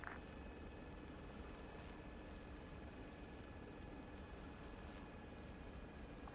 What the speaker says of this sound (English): Can't hear myself think over this helo.